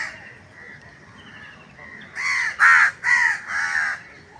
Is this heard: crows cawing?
yes